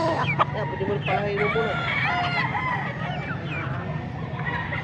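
Young gamecock stag crowing repeatedly amid a crowded Pampanga rooster market, with other birds crowing and clucking around it and people talking in the background.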